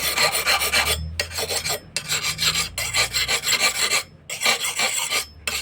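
A hand file rasps across saw teeth in quick repeated strokes, with brief pauses between bursts, close and fairly loud.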